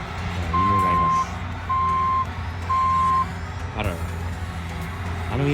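Bobcat dozer working in a Texas backyard sounds three repeated reversing beeps over a low diesel engine rumble, with a person talking briefly near the end.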